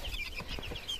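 Young Pekin bantam chickens cluck nearby outdoors, a quick run of soft, overlapping chirpy clucks and peeps with no voices over them.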